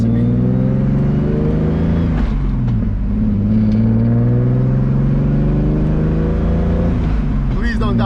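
Turbocharged BMW E30 with a swapped M50 engine pulling out from a stop, a loud steady engine drone climbing in pitch as it accelerates, with a short lift and shift partway through, heard from inside the car.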